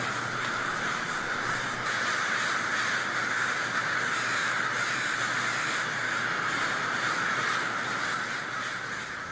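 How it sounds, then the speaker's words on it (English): Dense flock of crows cawing continuously at a winter evening roost in downtown Portland, a loud, unbroken chorus of overlapping calls with no voices. "Crows and many birds aggregate at night during the winter months to roost"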